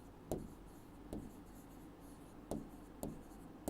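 Sentences are written on a board during an English lesson: a few quiet, separate scratchy strokes, about four or five short bursts with soft rubbing in between, close and alone.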